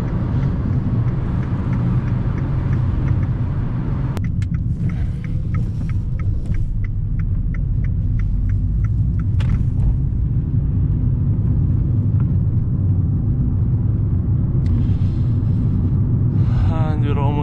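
A 2014 Fiat 500 1.2 cruising at motorway speed, heard from inside the cabin as a constant low engine and road rumble, with a voice briefly audible over it.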